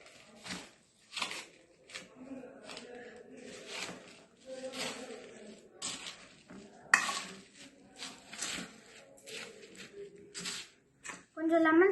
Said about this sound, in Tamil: இப்போ வந்து நல்லா மிக்ஸ் பண்ணிக்கோங்க.